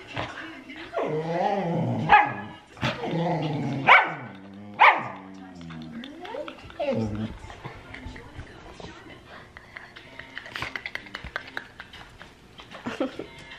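A dog yips, whines and barks in short vocal bursts up close, while a person talks affectionately over it; later, light clicking and shuffling.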